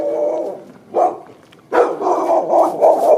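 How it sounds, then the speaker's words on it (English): A dog on a residential street barks several times, loud and close, with short yips in an uneven rhythm and a pause between bursts. "Oh, puppy dog."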